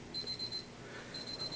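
A timer alarm in a manual therapy treatment room beeps in two quick bursts of short, evenly spaced high-pitched tones, with a brief pause between them; the beeping is clear but moderate in volume over a quiet room.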